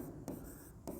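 Chalk or marker scratches across a classroom board in two short strokes during a physics lesson, close and faint over low room hum.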